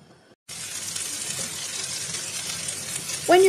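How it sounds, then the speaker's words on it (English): Peppers frying in olive oil in a pan: a steady, even sizzle starts abruptly and carries on up close, with a short tonal sound at the end. "I put my peppers in a pan with some olive oil, and I want to soften those a little bit."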